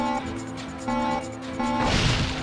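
Explosive crate touched in the PS2 game Ratchet & Clank, a beeping tonal warning repeated three times, then a burst of noisy crash-like sound at the end, moderately quiet with game music underneath.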